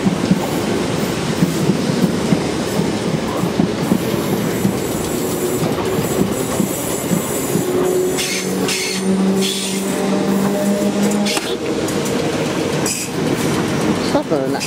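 A train passes at Clapham Junction, a loud continuous rumble with clickety-clack wheel noise and some squealing, heard close by for the whole stretch.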